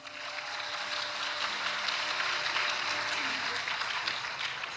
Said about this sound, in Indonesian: coba tepuk tangannya